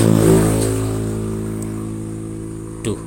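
A motorcycle engine with a suspected carburetor problem runs at a steady idle up close, a low rhythmic putter after a brief rev at the start.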